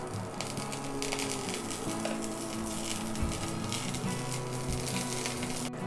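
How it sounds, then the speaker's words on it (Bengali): Two tablespoons of butter melting in a pan give off a steady, close sizzle with faint crackling that runs throughout without any talk. "এখন আমি এখানে 2 টেবিল চামচ বাটার দিয়ে দিব। বাটারটা এখন গলিয়ে নিব।"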